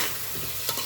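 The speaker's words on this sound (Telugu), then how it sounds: "బాగా కలపండి. హై ఫ్లేమ్లోనే ఉండండి అమ్మ." Mutton pieces frying over a high flame, stirred in a pan: a steady loud sizzle with a scraping stir, brief and close, with no voices.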